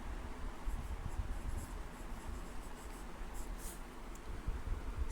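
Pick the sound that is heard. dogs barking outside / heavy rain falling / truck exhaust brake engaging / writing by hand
writing by hand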